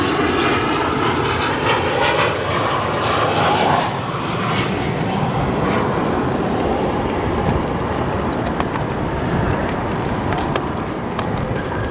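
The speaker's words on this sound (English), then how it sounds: "United Airlines going for the hard stop on there" A United Airlines airliner landing at Chicago O'Hare brakes hard, its engines giving a loud continuous roar that holds steady and then slowly fades as it slows, heard from a distance with no talk.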